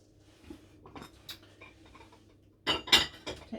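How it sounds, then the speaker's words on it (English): Dishes and cutlery being moved aside in a home kitchen while lasagne is being made, with a few light scattered clinks followed by a louder cluster of ceramic and metal clatters near the end. "Take the dishes out of the way."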